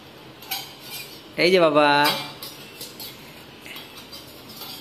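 A small child pretend-cooking clinks a metal spoon against a bowl, a bright ringing scrape lasting about a second, with an adult's brief speech and quiet background around it.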